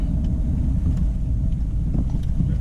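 A car cabin's steady low engine and road rumble on the drive to a Dodge dealership in Denton, Texas, a continuous close drone without talk.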